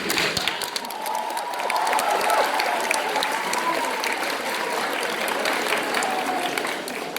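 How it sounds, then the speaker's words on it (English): An audience applauds a nomination at a boys' Shakespeare competition semi-final, the sustained applause rising and then holding steady, with a little crowd noise beneath it. "You can clap for the nomination."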